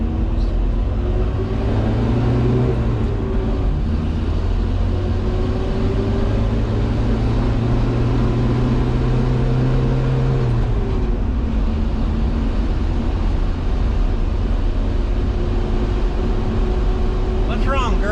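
A pickup truck engine after a carburetor swap revs up and stumbles, its steady drone rising and sagging as it cuts out at certain RPMs, loud and close over a continuous rumble.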